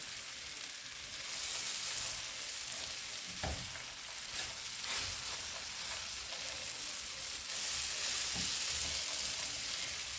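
Cranberries cooking down in a pan give a steady soft sizzle and bubbling close by, with a few light stirring knocks and no talking.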